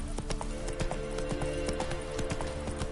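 Hooves clip-clop in quick, steady, close beats as a rider urges a horse on in a video game, with layered ambient game sound beneath and no talk.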